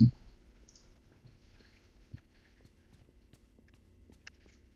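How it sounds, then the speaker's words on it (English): Sparse footsteps in the video game Five Nights at Freddy's: Security Breach, a few faint, irregular clicking steps spaced across an otherwise quiet stretch, with one louder thump at the start. "I hear footsteps."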